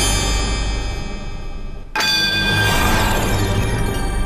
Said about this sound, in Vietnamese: Tiếng chuông mà chúng tôi đã chờ đợi từ nãy giờ ạ.